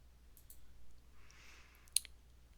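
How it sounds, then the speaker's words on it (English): A single faint computer mouse click near the end, sharp and brief, in an otherwise quiet room with low background hum. "We're going to click on our Find Next button."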